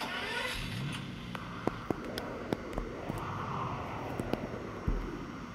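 A Bugatti EB110 Super Sport supercar engine in Roblox drones steadily as it rises and falls on a test drive, with sharp clicks scattered through it and no talking.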